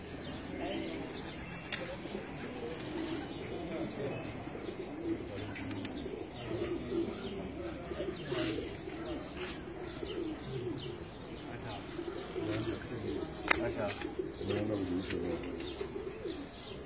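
Pigeons coo repeatedly on a rooftop in Kharian, their soft rolling calls mixed with chirps and occasional wing sounds, while people talk nearby.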